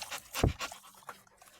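Dogs panting on a hot evening, a few quick breathy pants and a short sniff or huff, close and fairly loud, with no talking.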